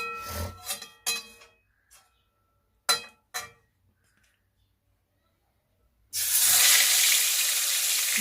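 Fish pieces frying in hot oil in a wok, with a loud, steady sizzle bursting in near the end after scattered clatter and short knocks, then hissing continuously at close range.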